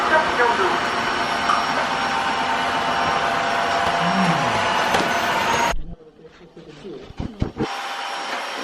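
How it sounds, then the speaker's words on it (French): Dreame H11 Max wet-dry vacuum running in water suction mode, picking up a large amount of spilled water from a broken pot; a loud steady whir with gurgling for most of the clip, then it cuts out, leaving clattering handling noises. "J'ai mis l'aspirateur en mode aspiration d'eau."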